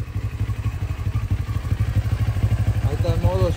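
A CFMoto CLX 700 motorcycle with a new aftermarket exhaust, set to sport mode, idles nearby with a steady low, lumpy throb. A voice comes in briefly near the end.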